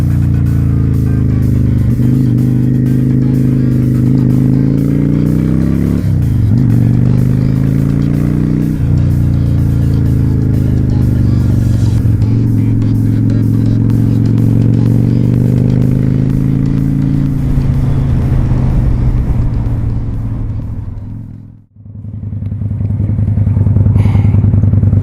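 A motorcycle rides around a practice lot, its engine droning loud and close while pitch climbs and drops through several gear shifts, briefly easing off near the end before revving again.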